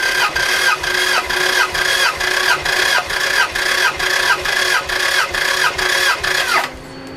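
A 1991 Toyota Celica GT engine, spark plugs removed and throttle wide open, cranks on the starter during a compression test, a loud, steady rhythmic whirring of about a dozen even pulses, then stopping near the end.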